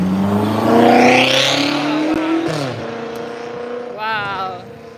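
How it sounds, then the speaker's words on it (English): A car engine roars and revs loudly nearby on a Toronto street, rising in pitch and then dropping away, with a second brief rev near the end. "He can make his car go loud."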